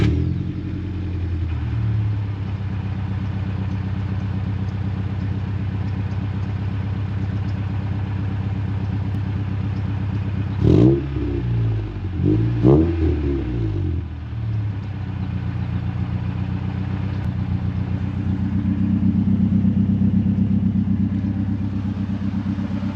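A 1998 Honda Civic engine runs steadily at idle, its exhaust droning loudly and close, with a couple of sharp revs midway and a gentle rise in engine note near the end.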